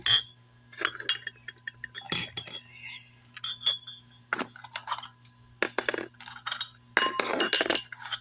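Glass containers clink and tap as they are set out on a counter for instant jelly, a series of light, bright knocks scattered across several seconds, close by and fairly quiet, without talk.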